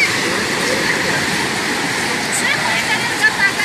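Atlantic Ocean surf at Biarritz, France, roars as a loud, continuous broadband wash of breaking waves, steady and close, with a few faint brighter sounds on top.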